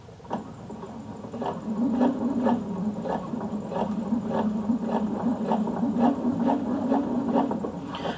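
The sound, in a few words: sewing machine sewing a slow basting stitch seam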